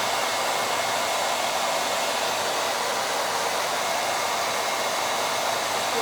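Quick-dry hair tool with no heat, blowing air in a loud, steady, unbroken rush close by, with no talk.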